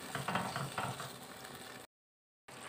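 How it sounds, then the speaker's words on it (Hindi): Korma-style aloo gosht with yogurt, onion and tomato frying in a pot while stirred: soft sizzling with rustling stirring strokes that stops abruptly into a short silence before resuming, with no talking. "दही, प्याज और टमाटर, ये अब इसमें मिक्स करके इसको हम अच्छी तरह पकाएंगे।"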